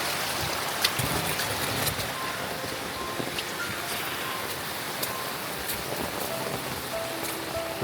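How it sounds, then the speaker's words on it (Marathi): Heavy monsoon rain pours down on a village, a dense, continuous hiss of drops on surfaces with scattered louder splashes, heard alone without voices. "लावणीपेक्षा पण जबरदस्त पाऊस लागतो आहे"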